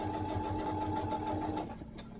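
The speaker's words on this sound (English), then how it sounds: "we're going to go ahead and sew a 1/4 inch seam" A home sewing machine runs a quarter-inch seam around a pot holder, a quiet, steady mechanical whir with fast rhythmic needle clatter that slows and stops near the end.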